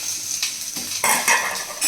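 Spices hit hot oil for a tempering poured into a tamarind-style greens stew, giving a bright sizzling burst with metal utensil clinks and stirring, close and fairly loud with no talk.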